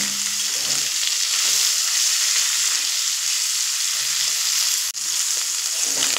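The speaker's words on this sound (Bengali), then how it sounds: "দেখুন 3 থেকে 4 মিনিট আমি মিডিয়াম ফ্লেম করে উচ্ছে আর চিংড়ি মাছ আর পাঁচফোড়ন খুব সুন্দর করে কষিয়ে নিয়েছি" Bitter gourd, prawns and five-spice fry over a medium flame, giving a steady, close, continuous sizzle with faint stirring and no voices.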